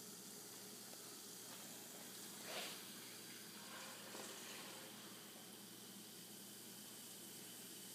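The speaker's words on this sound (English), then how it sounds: "It's bubbling and fizzing." Effervescent tablet dissolving in a glass of clear water, giving a steady soft fizzing hiss with faint crackling bubbles throughout, one slightly louder burst of fizz partway through.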